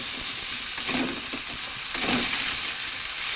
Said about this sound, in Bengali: চলো এটা হালকাভাবে একটু ফ্রাই করে নিই, খুব বেশি ফ্রাই করব না, একদম হালকা